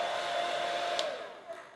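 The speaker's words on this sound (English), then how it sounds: "when I'm using the actual hairdryer itself, I'll just tap that down to slight" A hair dryer on a low setting blows over a freshly airbrushed model, a steady airy whoosh with a thin whine that holds evenly, briefly shifting near the end, heard alone at moderate volume.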